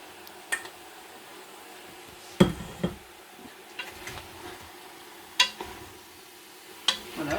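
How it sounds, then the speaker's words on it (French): A spoon stirs cabbage in a pot where bacon lardons are frying, giving a few scattered scraping knocks and taps over a soft, steady sizzle. "je remue quand même"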